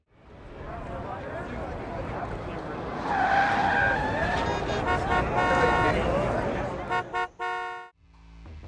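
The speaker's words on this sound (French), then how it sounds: "un crissement de pneus suivi de quelques klaxons devrait se faire entendre" Car tyres screech loudly and build to a sustained squeal, then several short car horn honks blare in quick succession before cutting off, followed by a low rumble.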